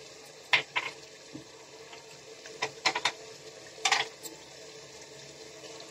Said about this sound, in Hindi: मसाला भूनने लगा है मटन ने तेल छोड़ दिया है